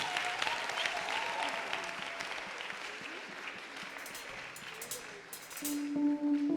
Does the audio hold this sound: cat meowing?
no